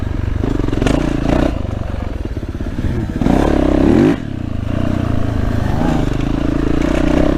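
A KTM 300 EXC two-stroke enduro bike rides a soft dirt trail, its engine droning steadily close by with a sharp rev-up partway through and clattering, scraping ground noise underneath.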